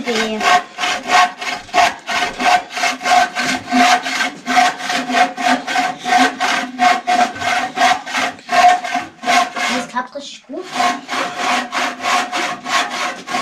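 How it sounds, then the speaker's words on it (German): A hand saw works steadily through a workpiece in a garage, with strong, regular back-and-forth rasping strokes about twice per second. The sawing is loud and close, with a brief pause near the end before the strokes resume. "langsam kriegst du dann das Feeling dafür, wie die Säge da durchgleitet"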